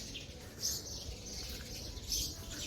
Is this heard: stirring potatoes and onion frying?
no